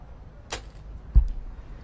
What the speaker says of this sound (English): That sound is the most satisfying sound out there when an arrow hits the dead center of the target.